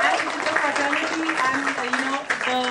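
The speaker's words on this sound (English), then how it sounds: "So really a round of applause for Mithibai and the fraternity" Audience applause at a college film festival, a continuous wash of clapping mixed with cheering and raised voices, loud and close.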